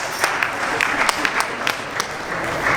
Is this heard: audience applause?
yes